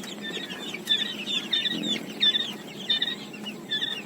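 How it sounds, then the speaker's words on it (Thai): Native Thai chickens and chicks cluck repeatedly in short, bright bursts, fairly close, with a busy rhythm of overlapping calls and no talking. "ส่วนลูกไก่บ้านก็ยังมีนะครับ"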